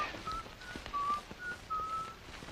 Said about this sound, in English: somebody's whistling Yankee Doodle